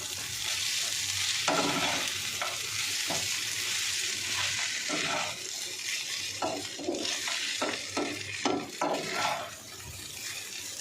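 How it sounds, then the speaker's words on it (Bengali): Egg-coated flattened rice tossed with vegetables in a hot pan, a steady loud sizzle with irregular scraping stir strokes of the spatula, close and alone without talk. "এবার আমি সবজির সঙ্গে মিশিয়ে দেব।"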